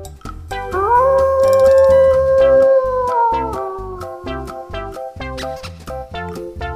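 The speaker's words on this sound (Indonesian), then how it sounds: "Ada serigala." A wolf gives a long, sustained howl that rises, holds steady and then fades. It sounds loud and close, over a steady rhythmic musical backing.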